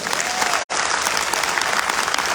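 Vigorous audience applause at a business event, a dense, loud roar of clapping from a large crowd that runs continuously, broken only by a split-second dropout early on.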